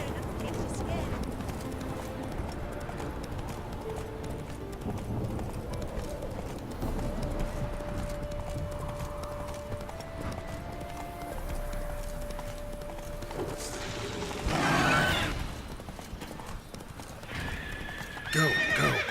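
A horse in The Witcher 3: Hearts of Stone clip-clops along at a steady gait for nearly twenty seconds, then lets out a loud whinny near the end over a faint background tone.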